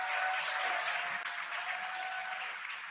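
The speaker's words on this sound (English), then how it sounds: "You can hear the crowd here." A crowd gathered to watch the Dragon Freedom capsule splash down cheers and applauds steadily, a dense, broad wash of clapping and shouts that stays loud and even throughout with no clear talk.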